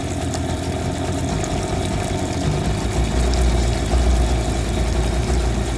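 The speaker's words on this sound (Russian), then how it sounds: "Мотор завелся." A Chinese outboard-style motor idles steadily in cold taiga near water, a continuous close rumbling drone that swells slightly louder in the second half, with no talk over it.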